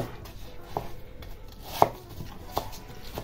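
Kitchen knife cutting a deseeded vegetable into large cubes on a board, preparing Polish-style cooked cabbage with sausage, with a few sparse, separate chops over quiet room noise and no talk.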